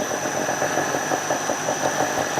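A small engine runs steadily while driving an asynchronous generator, a continuous mid-pitched drone with a faint rhythmic knock and a high electrical whine, close and fairly loud with no talking.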